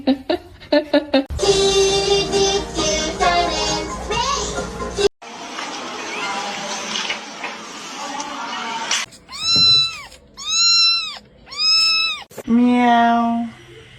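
A kitten meows repeatedly in short, clear, rising-falling calls, loud and close. It is mixed with bursts of children's voices and other household noise, and a person's voice seems to join in.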